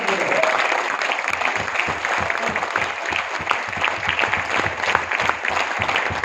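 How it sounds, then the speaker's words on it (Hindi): Trainees at a leadership development session in a New Delhi hotel clap in an uneven, moderately loud patter, with voices mixed in beneath it. "ये तुम चाय वाली तालियां बजा रहे हो"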